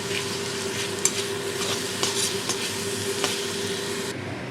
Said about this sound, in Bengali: ভালো করে আমি আবারও ভেজে নেব।